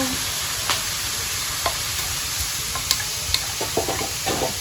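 Field crabs frying in oil while being stirred, a continuous close sizzle broken by repeated light scraping and tapping clicks from the stirring utensil at irregular intervals.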